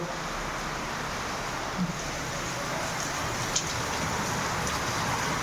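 A dense, continuous hiss of heavy rain pours down with a windy rush, unbroken and fairly loud for the whole stretch.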